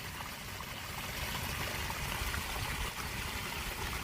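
Water pours steadily out of a French drain and outdoor sump pump discharge after four inches of rain. It makes a constant, close, broadband rushing trickle that stays even and uninterrupted, with no voices.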